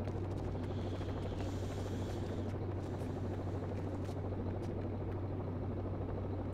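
Helicopter in the shooter game Rainbow Six: Vegas, a steady droning rotor hum with a low throbbing buzz, continuous and unchanging, with faint scattered clicks and no speech.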